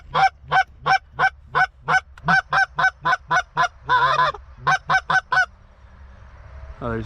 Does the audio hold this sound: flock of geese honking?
yes